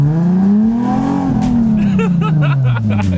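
A manual car is floored hard, its engine revving loud and close with the pitch climbing and then dropping as the gears are banged through.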